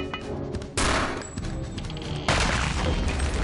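Grenade blasts in Return to Castle Wolfenstein: two sudden loud, broad booms about a second and a half apart, each leaving a rumbling wash of noise that lingers under the next.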